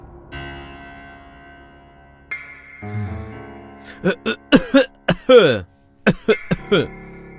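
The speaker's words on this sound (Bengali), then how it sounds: "ওই একটু কাশি আসছে" A man coughs in a string of sharp, close bursts, several in quick succession after a stretch of background music.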